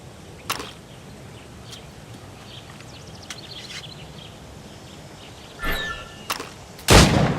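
Rifle shots fired at practice targets in Assassin's Creed Rogue: a sharp crack, then a quiet gap, then three quick reports close together, the last the loudest, over a low outdoor ambience.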